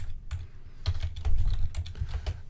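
Typing on a computer keyboard at a desk, a run of close, irregular key clicks and taps of varying loudness, with no voices.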